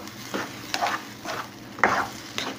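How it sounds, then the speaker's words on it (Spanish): Egg and cheese are stirred as they cook in a pan, giving about five distinct scraping strokes at uneven intervals over a faint sizzle, close and clear, with no talking. "Vamos a revolver porque ya se está cociendo"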